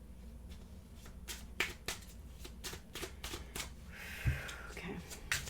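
Cards from a Rebel oracle deck are pulled and shuffled during a pick-a-card reading, making soft, quiet flicks and snaps at irregular intervals over a faint background.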